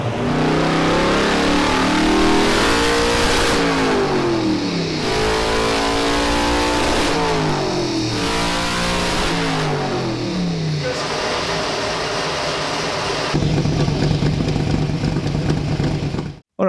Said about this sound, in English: it just breaks into wheel spin